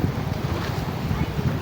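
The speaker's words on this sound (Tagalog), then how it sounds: "Salpukan yung mga alon dun sa seawall." Waves crash against a seawall during rain on the coast near San Rafael, Ragay, a rough, continuous wash of water with wind buffeting the microphone throughout.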